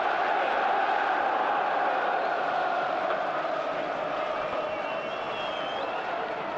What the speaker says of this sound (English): The crowd has been lifted again by that.